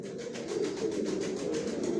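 Pigeons coo steadily inside a loft with fresh bedding, a soft continuous chorus of low throaty calls pulsing in a regular rhythm, close and even, with no voices.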